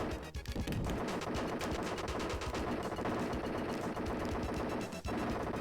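Rapid machine-gun style gunfire from shooting in The Untouchables on the SNES, a dense continuous burst of repeated shots with a brief gap near the end, loud and steady throughout.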